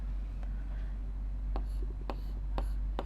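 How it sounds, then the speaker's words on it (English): Chalk or marker strokes on a classroom board, a series of short scratchy taps and scrapes in irregular rhythm, close and fairly clear over a low background hum. "Let us first write the given details here."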